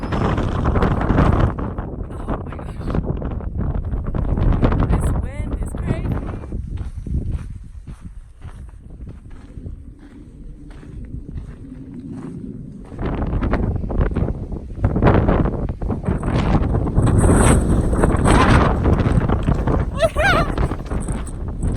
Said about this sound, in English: And I feel like I'm not moving at all. The wind is so strong.